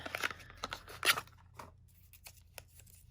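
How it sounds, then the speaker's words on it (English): Scissors trimming a paper poinsettia petal, several crisp close snips in quick succession, quiet and alone with no talking. "I'm going to trim off the base here because we don't need that"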